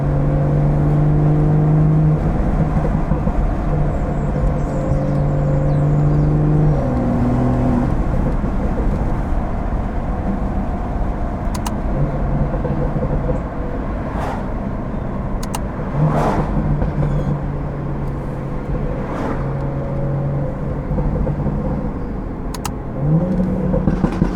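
Tuned stage 2 BMW 440i driven on back roads, its engine droning steadily up close with shifting pitch as it accelerates and changes gear, brief sharper bursts of exhaust noise breaking through.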